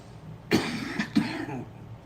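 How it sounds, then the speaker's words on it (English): A single person coughs twice in quick succession, close and fairly loud, with a brief throat-clearing rasp, against a quiet room background. "now I know why you be coughing like this"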